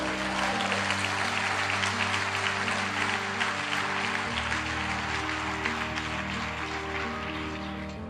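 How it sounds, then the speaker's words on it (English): An audience at a motivational talk breaks into sustained applause, a dense, steady wash of clapping that fills the whole stretch, with low sustained tones humming beneath it. "Give yourselves a round of applause."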